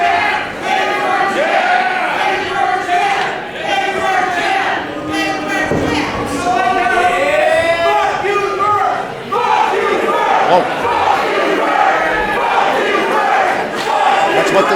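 A wrestling crowd at a live show jeers at wrestler Paul Virk, loud massed shouting and booing that rises and falls throughout, with voices from the crowd carrying over the din.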